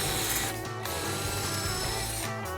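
A power drill backs the small metal wheels off a wooden deck chair, whirring steadily and loudly at close range, with a brief dip in pitch partway through and another near the end. No voices.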